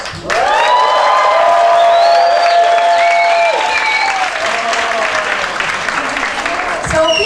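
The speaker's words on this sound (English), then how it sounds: "please, welcome with a very big applause the first edition ever of the Quijote Awards" Loud, sustained audience applause at the first Quijote Awards ceremony, with some cheering and whistles, while music or a voice carries tones over the clapping for most of the stretch.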